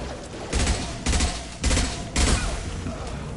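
Four short bursts of gunfire ring out from a burst-fire gun in a shooter video game, evenly spaced about half a second apart and loud over a steady background din.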